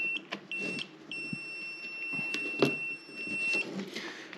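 A Quantum flight computer powers on with a thin, steady electronic tone that holds for a few seconds, broken by short clicks and soft handling knocks, with no talking.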